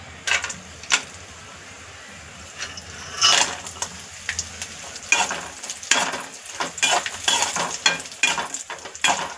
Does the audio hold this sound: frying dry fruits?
yes